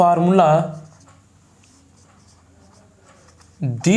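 Writing on a board makes faint, soft scratching during a pause between stretches of close speech.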